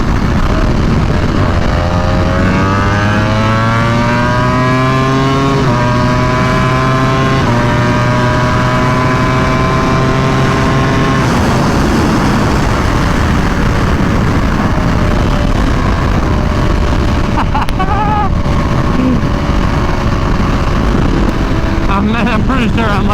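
A Ducati Panigale V4 R motorcycle revving hard while riding, the engine climbing through high revs with repeated upshifts, loud and close, then settling into a steadier roar with wind noise.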